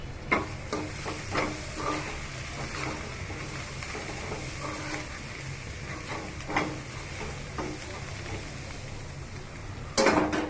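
Spices such as turmeric being stirred into egg curry in a pan, a steady sizzle and hiss punctuated by repeated scraping strokes of a spoon, close by, ending with a louder clatter and no talking.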